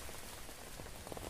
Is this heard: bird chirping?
no